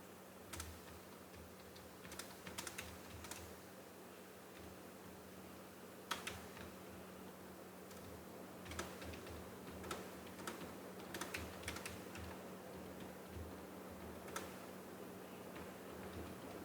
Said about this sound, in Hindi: तो मैंने सिंपली यहाँ पे टाइप किया